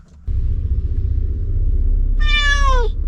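A pet cat gives one drawn-out, rising-then-falling meow near the end, heard over the steady low rumble of a moving car.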